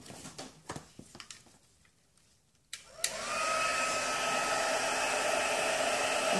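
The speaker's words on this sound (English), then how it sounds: "I'm heating it with my heat tool" Heat tool melting clear embossing powder on a pressed-petal washi flower craft piece, switching on after some faint handling taps and then blowing as a steady, fairly quiet whirring hiss.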